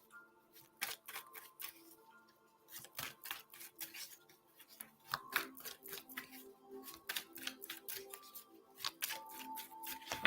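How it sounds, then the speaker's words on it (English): Tarot cards are shuffled by hand in quick bursts of crisp riffling and flicking, close and fairly quiet, with brief pauses between runs and no talking. "I'll go back to shuffling because the cards are being stingy"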